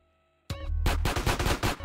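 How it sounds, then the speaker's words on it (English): Gunfire in Grand Theft Auto Definitive Edition: after a brief sound-effect flourish, a rapid, loud string of close shots rattles off in a steady burst, with no talking. "These gunshots annoying me now."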